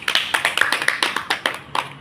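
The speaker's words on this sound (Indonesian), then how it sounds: "Tepuk tangan dulu untuk Rida." Clapping for a student after a microteaching demonstration in a classroom, a steady run of sharp, close handclaps from a small group, fairly loud and even in rhythm.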